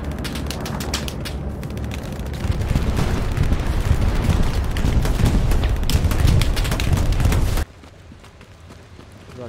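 Enemy bombing run in a war video game, a continuous dense barrage of rumbling explosions and mechanical clatter that builds in loudness and then cuts off abruptly, leaving a quieter background.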